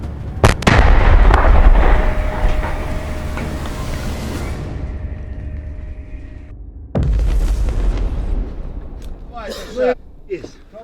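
A loud, deep boom of a mortar shot close by at a firing position, followed by a long rumbling echo, then another heavy blast and brief shouting voices.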